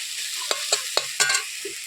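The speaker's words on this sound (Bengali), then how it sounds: "নেড়ে চেড়ে কি সুন্দর ভাজাটা আমার হয়ে গেছে" Close sizzling of water spinach frying in a pan, with a few quick scraping stirs at an uneven rhythm.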